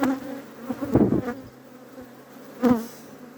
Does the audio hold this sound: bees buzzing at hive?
yes